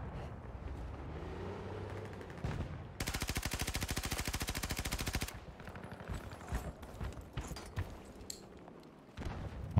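Sustained rapid automatic gunfire in a video-game battle for tanks and sectors, a dense burst of a couple of seconds in the middle, with scattered single shots and game noise before and after.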